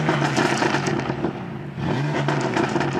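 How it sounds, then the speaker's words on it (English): A BMW M4 running an MHD burble map revs hard and loud close up, two bursts of throttle separated by a brief dip in the engine note. "Okay, we're gonna rev it."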